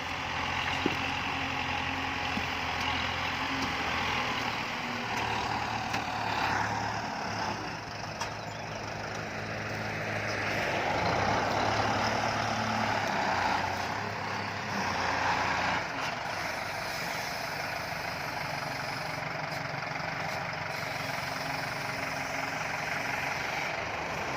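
A six-wheel truck engine runs steadily at a low idle nearby, with a continuous rumble and some mechanical rattling; the level swells slightly midway and otherwise stays even.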